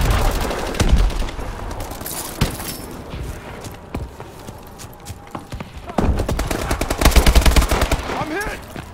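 Rapid automatic AK-12 gunfire in Call of Duty Advanced Warfare team deathmatch, with dense bursts of sharp shots near the start and a louder, sustained stretch of rattling fire in the last few seconds amid game effects.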